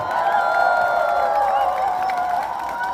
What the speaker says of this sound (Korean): 박수 많이 주시면 됩니다.